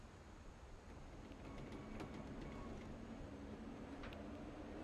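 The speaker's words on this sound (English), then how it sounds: "The train that runs under the house every day at 12 o'clock." A rumbling train runs beneath a house in the game What Remains of Edith Finch, a steady low rolling drone with faint high clinks and squeals, continuous and moderately distant, with no talking.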